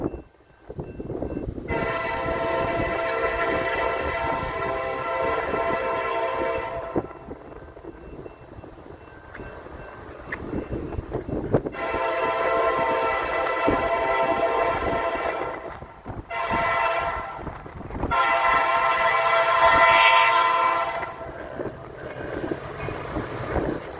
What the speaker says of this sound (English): That's a manifest train, otherwise known as carload